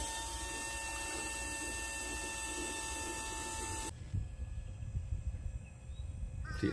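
A machine bleeding air from Sea Star hydraulic boat steering, with a loud steady mechanical whir and hum for about four seconds, then cutting off to quieter clicks and handling noise.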